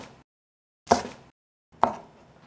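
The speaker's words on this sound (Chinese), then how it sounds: "换一个方向，切成丁状" A knife dices a yellow bell pepper on a cutting board, two crisp, close chops about a second apart, each with a short ringing tail, separated by near silence.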